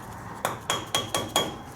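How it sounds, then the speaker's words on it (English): Hammer tapping a Ford truck ball joint into place, five sharp metallic taps in quick succession with a ringing edge, close and clear, no talk. "we give it a little tappy tap right on the edge right here"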